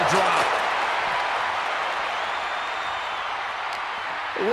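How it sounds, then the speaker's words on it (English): Cheering arena crowd at a wrestling casket match, a steady loud roar that fills the whole stretch with no individual voices standing out. "Listen to this crowd."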